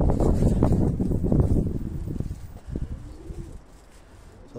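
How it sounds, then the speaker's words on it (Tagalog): Racing pigeons, older birds in a loft, cooing in low throaty bursts close by, with wing flutters and rustling that fade toward the end. "Yung ating mga old birds, mga kalapatids."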